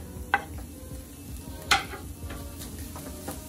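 Two cloves of garlic frying in a pan give a soft, steady sizzle at close range, broken by a couple of sharp utensil clinks against the pan; no one speaks.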